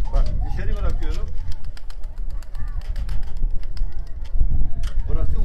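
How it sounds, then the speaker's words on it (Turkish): Abdal Arap pigeons from Konya cooing and fluttering outdoors as they are let out, the soft calls and wingbeats heard under someone talking throughout. "Hani bunlar da güvercin zaten. Bak dışarı bırakıyorum."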